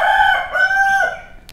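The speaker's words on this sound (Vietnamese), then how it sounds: "gà cũng gáy luôn rồi kìa" Rooster crowing once, loud and near, a drawn-out cock-a-doodle-doo with rising and falling pitch, standing alone with no talk over it.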